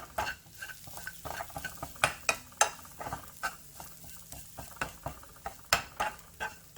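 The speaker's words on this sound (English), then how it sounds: "Make sure that all the breadcrumbs are coated in the butter. And you're just going to toast that lightly." Breadcrumbs toasting in melted butter in a pressure cooker for mac and cheese, stirred with a utensil: irregular scraping strokes and clinks over a soft sizzle, close and fairly quiet.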